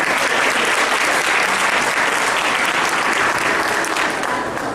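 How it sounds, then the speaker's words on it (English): Steady, dense applause from an audience after a children's cultural performance at an Easwaramma programme in Gaborone, Botswana, filling the space loudly and evenly from start to finish. "Dear children, let's give them a big round of applause."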